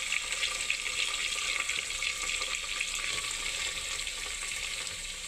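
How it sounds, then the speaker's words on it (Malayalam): Sliced onions with curry leaves frying in hot oil for a spinach dal curry, giving a steady, close, even sizzle throughout with no talking. "സവാള ഇട്ടിട്ട് ഒരു 5-10 മിനിറ്റ് വരട്ടുക"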